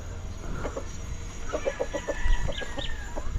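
Pigeons in their coop give soft, close clucking calls in short repeated pulses over a low background hum.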